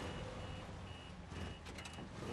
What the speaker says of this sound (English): There's this annoying beeping going on right now.